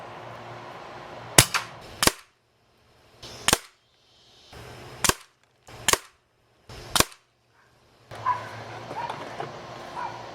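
An Umarex Notos air rifle fires Demo Redfire 15-grain pellets in outdoor target shooting, six sharp snapping shots spaced about a second apart, each cracking out over quiet, with faint background noise between.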